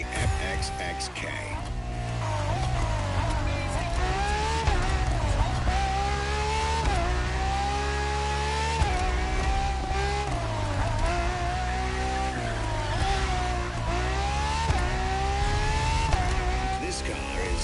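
A Ferrari FXXK racing in The Crew Motorfest, a loud, steady high-revving engine drone with repeated rising gear sweeps and tire noise throughout, over a constant bed of game sound.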